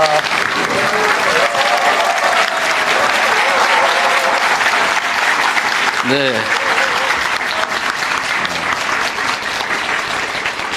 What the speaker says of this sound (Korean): 이렇게 열렬한 환호를 보여주는 걸로 봐서